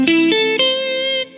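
An electric guitar heavy with effects, distortion and chorus, picks a triad arpeggio of three notes in quick succession, then lets the chord ring out loud and sustained.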